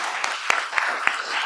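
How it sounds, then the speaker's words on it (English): Brief applause from a press-conference audience, a few distinct claps standing out over a soft wash of clapping. "Can we give him a round of applause?"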